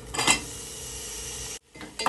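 Tomato and potato sautéed with turmeric in a pot give off a low background hiss, while the spoon clinks and scrapes against the metal near the start and again at the end, with a brief silent gap between.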